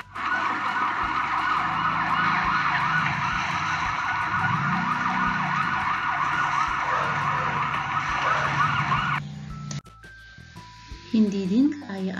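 Ambulance siren wailing loudly in a repeating rising-and-falling pattern for several seconds, then cutting off abruptly, followed by a few brief electronic tones and a voice speaking.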